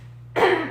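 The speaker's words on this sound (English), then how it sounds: "Little cough there." A single short, close cough or throat clear bursts out after a moment of quiet room hum.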